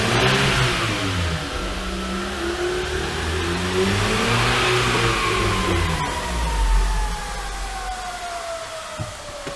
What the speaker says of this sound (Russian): Мотор орет капец.